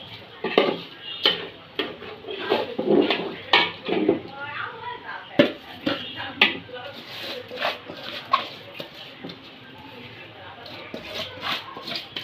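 Rice soaked for half an hour goes into a cooking pot, with clinks and scrapes of a metal utensil against the pot and soft pouring, while a person talks throughout.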